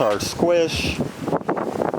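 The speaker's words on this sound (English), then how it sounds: "I apologize about the wind. It's really windy today." Rough, low wind buffeting against the microphone, rumbling under a man's speech.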